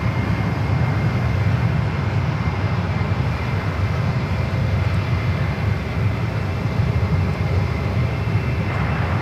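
Jet aircraft taxiing at San Francisco International Airport, a steady, loud low rumble and whine of engines that holds evenly throughout with no talk.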